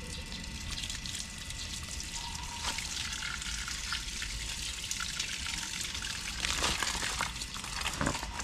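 Garden plants in a backyard plot are being watered, giving a quiet, continuous splashing and trickle of water onto soil, with a few slightly louder gushes near the end.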